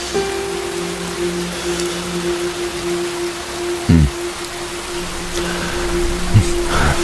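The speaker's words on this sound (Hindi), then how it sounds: "बारिश बढ़िया हो रही है।" Steady rain patters on a surface, a soft continuous hiss with a low hum underneath and a couple of brief knocks.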